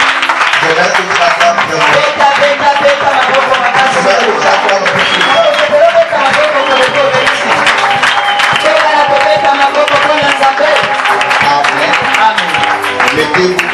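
A church congregation claps and cheers in praise during a French-language worship service, loud continuous applause mixed with raised voices and tonal cries that carry on steadily throughout.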